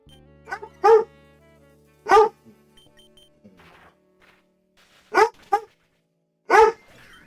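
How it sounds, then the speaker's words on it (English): A dog named Holmes barks indoors, loud and close, in a few spaced single and double barks with quiet gaps between them. "Holmes' bark echoes across Twitch."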